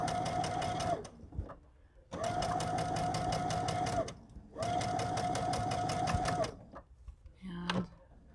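A sewing machine stitching fabric in three long humming runs separated by short pauses, loud and close, with a voice speaking between the runs.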